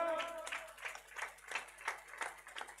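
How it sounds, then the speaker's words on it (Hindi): An audience claps along at a live Ramayana recitation gathering, roughly seven rhythmic claps in steady time, moderately near, following a brief voice at the start. "चलो ताली बजाओ"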